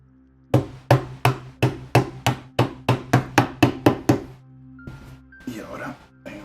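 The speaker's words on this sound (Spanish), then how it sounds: "apoyamos aquí en el martillo este y le damos aquí" Hammer taps on an Ikea Micke drawer unit during assembly, about fifteen sharp, evenly spaced knocks close by, followed by a few softer bumps and scraping handling noise.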